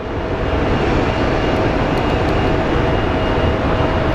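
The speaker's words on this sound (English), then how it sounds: "let's take a look at our 777 that is taxiing its way to the end of runway 8" A Boeing 777 airliner taxiing toward the end of runway 8 at Phoenix Sky Harbor International Airport at night, heard as a steady, broadband engine roar and rumble that holds constant throughout without talk.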